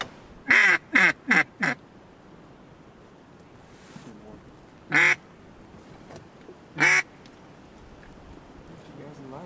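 Loud, nasal mallard duck quacks during a duck hunt: a quick run of four, then two single calls a few seconds apart, over steady wind and water noise.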